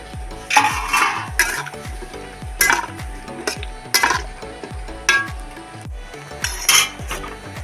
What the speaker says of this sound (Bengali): কড়াতে জল একটু গরম হয়ে গেছে আমি দিয়ে দিচ্ছি এক চামচ লবণ জলের মধ্যে ভেন্ডিগুলো আমি একটু হালকা করে খালি গরম করে নেব